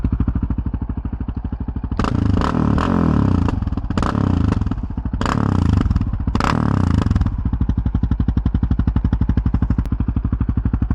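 A Yamaha Raptor 700R quad rides at dusk on a street, its engine and exhaust running steadily close by, with a louder burst of revving and clattering roughly two to seven seconds in before settling back to a steady drone.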